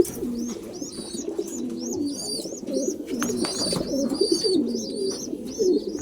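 Racing pigeons, including a hen, coo steadily in a loft, with low rolling coos close by and sharp bird chirps repeating above them. No one speaks.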